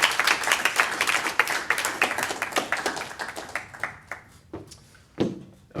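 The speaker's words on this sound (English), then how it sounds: "You already clapped, so that was good." A conference audience claps after a talk at a Ruby on Rails meetup in Austin: dense, loud applause that thins into scattered, fading claps, then a final few stray claps.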